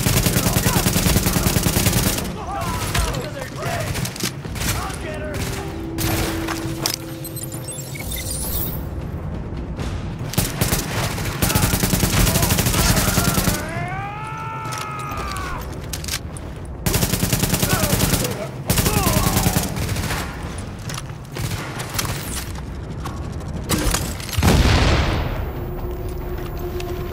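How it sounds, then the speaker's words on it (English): Sustained gunfire in The Division, with a rooftop gunner pinning down an escort party, including rapid machine-gun bursts and scattered shots across a dense, loud combat scene. Brief voices and other game sounds cut through the firing. "The escort party's taking heavy fire from the roof"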